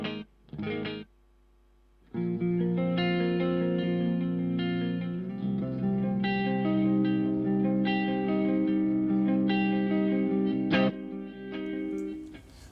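Guitar run through a stereo delay on a MOD Dwarf multi-effects unit, each note followed by a single repeat with LFO modulation, sustained tones swelling after a brief pause, loud and close with no talk.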